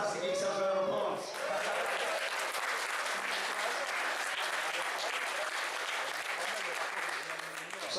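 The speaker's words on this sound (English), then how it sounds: "Give yourselves a round of applause." Sustained applause from a large audience at Ardacon 2018 in Rotterdam, steady dense clapping that carries on for several seconds after a brief voice at the start.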